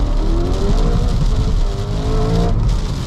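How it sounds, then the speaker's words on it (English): Supercharged 668 hp BMW M3 engine roars steadily at high revs as the wheels spin up briefly during acceleration in second gear, loud and continuous with rising whine, heard from inside the car. "yeah, it spins up a little bit now."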